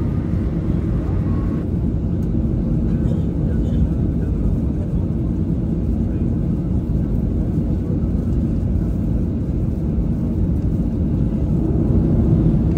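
A passenger airplane waiting on the runway before takeoff on an Islamabad to Dubai flight, heard from inside the cabin as a constant, loud, low engine rumble that holds steady throughout.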